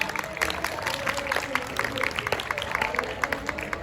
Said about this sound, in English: A big round of applause for Godavari House.